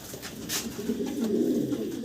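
Two large jumbo pigeons coo in a cage, a low rolling coo heard close and clear, with a faint rustle of movement.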